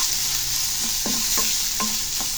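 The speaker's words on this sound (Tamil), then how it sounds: "இங்கேயே கொஞ்ச நேரம் வதங்கட்டும்." Onions are sautéing in a pan for a potato and egg gravy. A steady sizzle runs throughout, and several soft scraping stirs of a spatula land at irregular moments. There is no talk.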